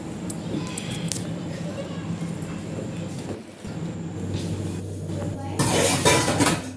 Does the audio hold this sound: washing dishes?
yes